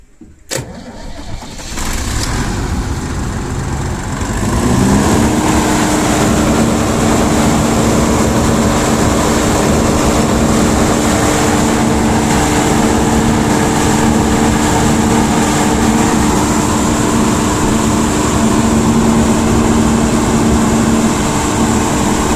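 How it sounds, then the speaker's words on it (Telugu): A Tata 125 kVA diesel generator cranks, catches and settles into a loud, steady running drone with a constant engine hum close by. "వన్స్ జనరేటర్ స్టార్ట్ అయింది"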